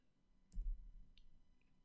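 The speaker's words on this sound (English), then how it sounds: "Right clicking will give you both breakpoint options." A computer mouse gives a single soft right-click during a software debugging session, followed by a couple of faint ticks in a quiet room.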